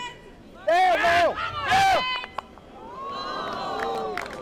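A crowd at a men's pairs lawn bowls national final groans and cries out in a loud collective reaction in two swelling bursts, then settles into a softer murmur of voices with a whistle-like tone.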